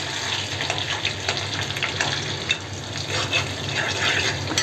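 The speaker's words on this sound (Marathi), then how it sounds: "आता कढई आपली तापलीच होती त्यामुळे लसूणच्या 4 पाकळ्या घातले. त्या चांगल्या आपण परतून घेऊया तेलामध्ये." Four garlic cloves sauté in hot oil in a preheated kadai, giving a steady, close sizzle and crackle that holds through without any talking.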